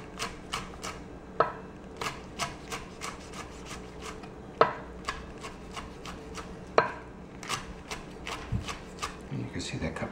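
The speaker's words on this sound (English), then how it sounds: "now we just slice them up" A knife slices through mild peppers on a cutting board, giving a steady run of crisp chops and scrapes at an even pace, with a few sharper knocks, while a person talks quietly.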